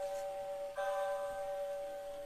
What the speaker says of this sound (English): This clock works with the chime.